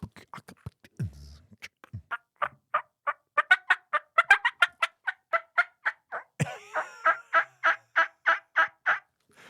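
A mouth call imitates a turkey gobbler in a long run of evenly spaced, yelping notes, close and loud, building steadily with no talking over it.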